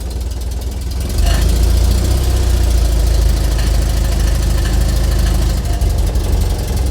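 A classic vehicle engine with an electric belt start catches and settles into a loud, steady idle, its low rumble continuing throughout at close range.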